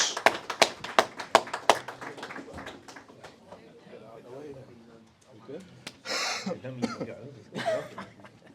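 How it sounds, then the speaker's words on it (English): Audience at a fight club press conference claps in a short burst of sharp, separate hand claps from a small group, then fades into scattered chuckles and a cough with people talking. "give a big round of applause for Dave, Bam Bam, Gregory, and Mark"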